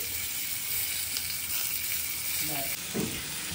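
Paneer frying in a pan with spices, a steady close sizzle spread broadly and continuously across the whole stretch, with a couple of soft stirring scrapes near the end and no talking.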